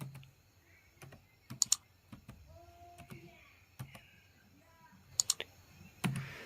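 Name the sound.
typing a command on a computer keyboard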